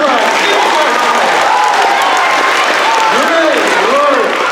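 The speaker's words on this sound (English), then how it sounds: "How about a round of applause for our kindergarten?" Steady applause and light cheering from a school audience praising a kindergarten class, dense clapping filling the whole stretch while voices chatter over it.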